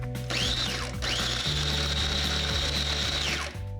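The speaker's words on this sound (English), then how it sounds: "I'm going to process this on and off for a few minutes with liquid going into it to soften everything up." A food processor whirs steadily through dried bread and garlic cloves, its motor pulsing on and off in short bursts and then running in one long continuous grind, close and loud.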